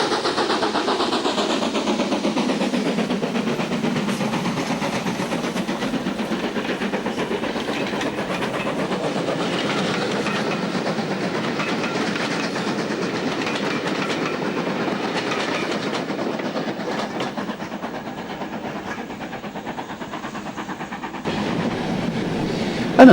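Steam locomotive 76079 hauling a northbound train on the East Lancashire Railway toward Rawtenstall, a steady rolling rumble with rhythmic wheel clatter on the rails, sustained and fairly loud throughout with no voices.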